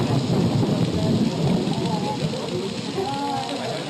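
Heavy thunderstorm rain in the English countryside of Devon and Cornwall, a steady dense broadband hiss of downpour, loud and continuous throughout, with faint voice-like tones drifting underneath.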